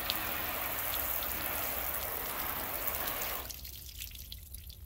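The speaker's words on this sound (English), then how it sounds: "all that water just sheeting right off" Water sheeting and dripping off a vertical car panel treated with Turtle Wax ceramic spray coating, a steady wet pattering hiss that suddenly thins to faint scattered drips near the end.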